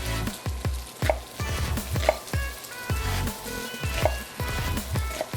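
Onions and tofu fry in a hot pan for a vegan lettuce-wrap filling, a loud close sizzle broken by a run of sharp spatula knocks and scrapes at an irregular pace.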